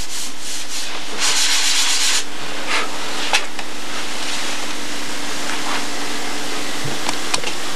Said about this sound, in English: Okay, well, our sanding is done